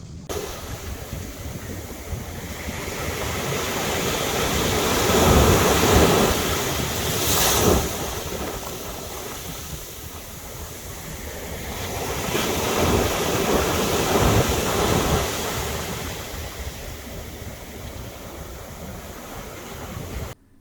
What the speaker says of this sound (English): a beach where we watched a ship sail out to the open sea